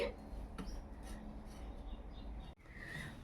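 Dried red chillies are ground into paste with a steady rough rubbing and scraping, close and fairly quiet, briefly pausing before resuming.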